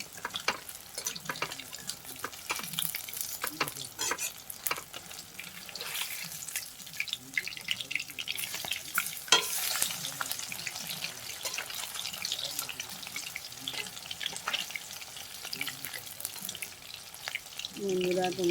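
Bhola fish chops coated in gram-flour batter with green chilli fry in hot oil, sizzling and crackling quietly and continuously, with occasional clatter and a faint voice in the background.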